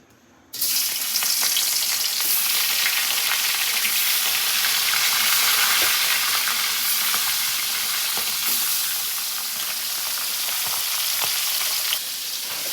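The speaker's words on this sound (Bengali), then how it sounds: "মাছগুলো ভাজা হয়ে গেছে" Fish frying in hot oil in a kadai, a loud, dense sizzle that starts abruptly and holds steady and close, with occasional crackles and pops.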